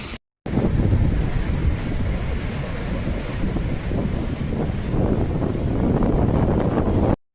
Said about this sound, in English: Crashing waves though, cracking sound.